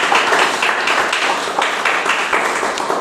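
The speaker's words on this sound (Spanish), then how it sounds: "Vamos a dar un fuerte aplauso a la palabra de Dios" A church congregation claps together in loud, dense applause that runs steadily throughout without letting up.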